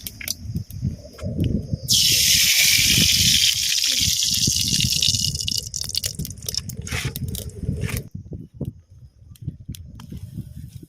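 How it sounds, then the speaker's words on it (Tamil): Oil poured into a hot pan for roasting burger buns, giving a loud sustained hissing sizzle that lasts several seconds before settling into steady crackling frying. "எண்ணெய் ஊத்திக்கலாம்"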